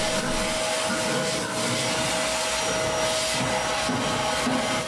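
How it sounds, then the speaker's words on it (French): Vacuum cleaner hose sucking rust out of a Maserati, a steady loud roaring whoosh with gritty rattling of debris passing through the tube, continuous throughout without pause. "L'aspirateur. En bouchant les autres orifices, quel plaisir d'entendre 1 kg de rouille passer dans le tuyau en quelques secondes et sans effort."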